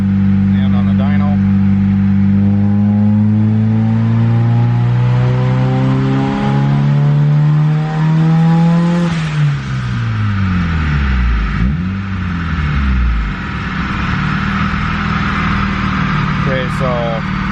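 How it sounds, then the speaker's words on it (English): A turbocharged D16Y8 Honda Civic engine on a dyno climbs through a long, loud rising rev with no VTEC and no boost control, then drops off and settles into a rough, wavering idle, with voices talking over it. "We're going to do a pull here with no vtec, kind of see where the boost is and everything like that with no boost control."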